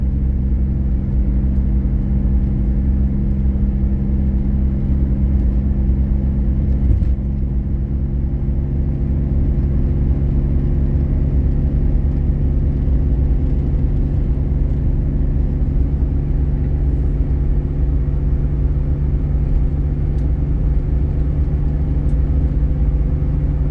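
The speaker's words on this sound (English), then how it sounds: "You can hear the exhaust is a little bit louder." A 2005 Jeep Liberty with a rusty, slightly louder exhaust drones steadily from inside the cabin while driving, a constant low engine rumble with no talking.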